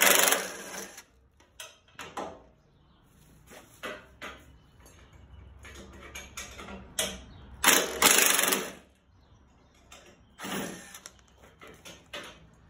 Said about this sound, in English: So now we'll remove the 2 inside bolts on the opposite end.